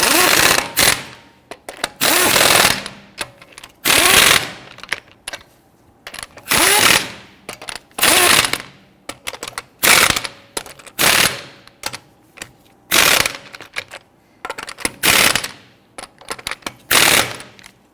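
A power tool rattles in repeated loud, rapid bursts with short pauses between them while snugging down lug nuts on a Ford Taurus wheel.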